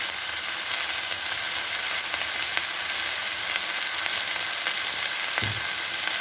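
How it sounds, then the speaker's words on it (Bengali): Bottle gourd peel fries with potato in oil over a high flame, a steady close crackling sizzle throughout, broken near the end by a single dull knock of a utensil against the pan. "ফ্লেমটা হাই করাই আছে। লাউয়ের খোসা দিয়ে দিচ্ছি"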